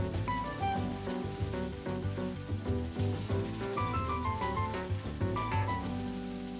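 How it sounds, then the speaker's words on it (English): Sandpaper rubs back and forth in steady, close strokes over a third plaster coat on a basement wall patch, a continuous gritty scraping with no talk. "More sanding."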